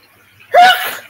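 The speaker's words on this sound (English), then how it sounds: "I sneeze a lot." One sharp sneeze bursts out after a short quiet inhale, close and fairly loud, during home hibachi cooking.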